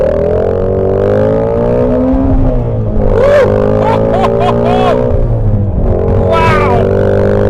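A Ford Shelby Mustang GT350 engine revs hard toward 8,000 RPM, a loud, sustained roar with rising harmonics, brief gear-change dips and a second climb, close up from inside the car.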